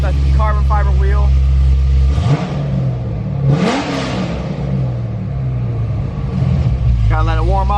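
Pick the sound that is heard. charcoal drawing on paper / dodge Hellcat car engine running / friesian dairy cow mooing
dodge Hellcat car engine running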